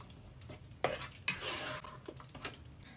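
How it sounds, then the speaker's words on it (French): A spoon stirs lasagna sauce in a pan, scraping and clinking against the metal in several distinct strokes, with a faint sizzle underneath. "Maintenant, on va mélanger tout ça."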